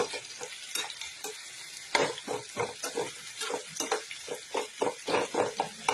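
Onion, tomato, chopped garlic and chili powder frying in a generous amount of oil, with a steady close sizzle broken by repeated rhythmic scraping strokes of stirring.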